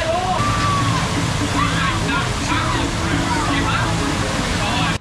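Rushing, splashing waterfall water pours loudly and steadily on a theme park ride, close by, with chattering voices underneath the roar.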